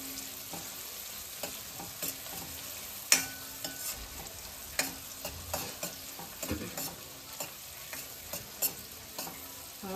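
Onions with red and green chillies frying in a pan over medium heat, a steady sizzle broken by scraping and stirring clatters of a spoon against the pan, close and busy with no talk.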